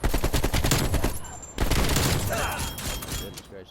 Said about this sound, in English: I'll use the Krig just for right here, just because I think it's the most accurate gun ever